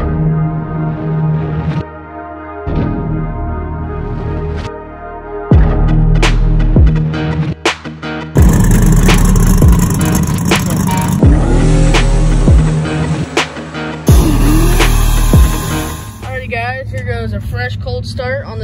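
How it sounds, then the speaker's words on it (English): Tuned car engine cold starting on a morning, cranking and catching into a rough, throbbing idle with sharp revs and blips, close by and loud, with some talk over it. "Cold start on this fine morning."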